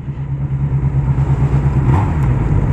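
Motorcycle engine revving in a video game about riding a Honda Hornet, a loud, close, buzzing drone that climbs in pitch and rises in intensity, alone with no talk.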